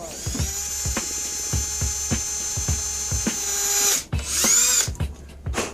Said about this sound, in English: This one's gonna drill a lot faster because you already did a pilot hole